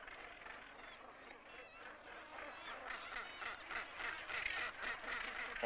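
A crowded colony of gannets, also called Solent geese, calls from its congested nesting ground. Harsh, overlapping honking cries form a continuous distant-sounding chorus that grows slightly louder toward the end.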